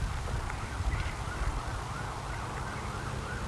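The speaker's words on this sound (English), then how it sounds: "Police car now, do you hear it?" A police car siren wails steadily at a distance across flat, wide-open country, its rising and falling tone persisting under a constant broadband rumble.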